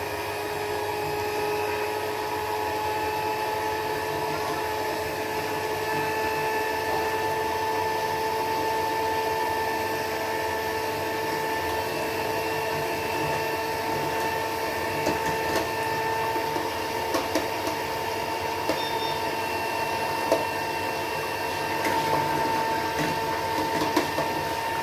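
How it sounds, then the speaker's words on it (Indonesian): An electric mixer runs at low speed, mixing flour into batter with a steady droning motor whine and occasional faint clicks and knocks throughout. "Kita mixer langsung ya dengan speed rendah sambil kita masukkan terigunya."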